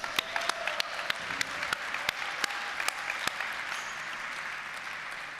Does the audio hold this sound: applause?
yes